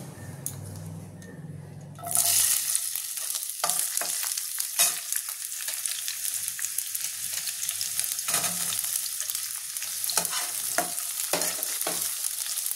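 After a quiet moment, chopped onions hit hot oil in a wok with a loud sizzle that keeps crackling steadily, punctuated by clinks and scrapes of stirring.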